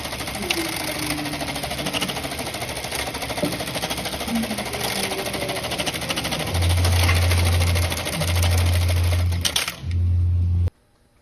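A sewing machine stitching seatbelt webbing for a Porsche Cayman S 987 replacement belt, a steady loud mechanical whir that deepens into a heavier, louder run in several bursts before stopping abruptly, no talking.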